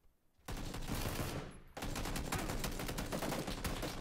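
Bursts of automatic gunfire from the video game PUBG rattle in two long, dense volleys split by a short pause, loud and steady, with no talk over them.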